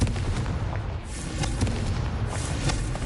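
Confringo blasting spells explode in the game Hogwarts Legacy, a continuous dense roar of booming detonations that stays loud and near for the whole stretch with no voices over it.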